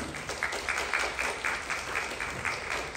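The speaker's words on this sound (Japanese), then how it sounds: "皆様もう一度大きな拍手をお送りください" Audience applause at an event's opening ceremony, with rhythmic clapping at a moderate distance, steady through the clip, no voices.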